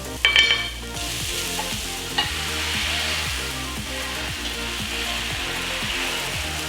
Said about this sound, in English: make sure that the pan you're using is hot, and then you put the batter on it